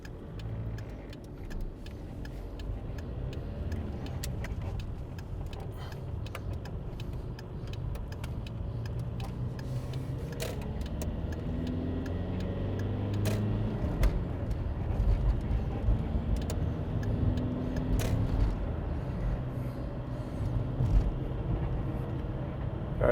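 A car drives through Las Vegas back streets, its steady engine and road rumble continuous and close throughout, swelling slightly toward the end with a few brief clicks and knocks over the drone.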